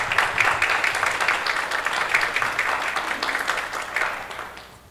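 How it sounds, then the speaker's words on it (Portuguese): Audience applause greeting a speaker at the start of a talk on change management; dense, lively clapping from a crowd that holds steady, then thins and fades out toward the end. "Uma salva de palmas"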